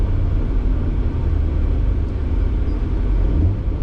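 A 1994 Jaguar XJS with a supercharged 4.0-litre straight six, heard from inside while cruising and downshifting, its steady low engine rumble and road noise filling the cabin with slight swells as the revs change.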